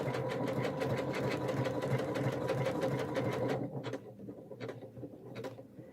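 Domestic sewing machine stitching a decorative daisy-style stitch on fabric for a spotty dinosaur project, a steady rapid mechanical whir and patter that runs continuously, then breaks into shorter stop-start bursts near the end.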